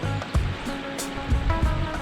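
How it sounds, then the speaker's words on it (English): Waves washing ashore at French Pass in the Marlborough Sounds, a steady broadband surf wash with a few soft surges, close and moderately loud, with no voices. "Listen to the waves."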